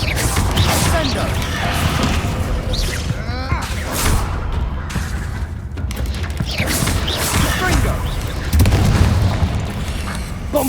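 Spell explosions from Bombarda and Confringo in the game Hogwarts Legacy boom and crash repeatedly amid combat clatter, heavy impacts layered over a continuous din, with voices shouting through it.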